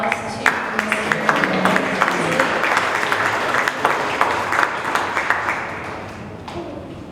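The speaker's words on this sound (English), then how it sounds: "So can we give a round of applause to Mr." Audience at a youth empowerment summit claps, the applause thinner and more scattered than a full ovation, with individual sharp claps and crowd murmur and brief voices mixed in, fading toward the end.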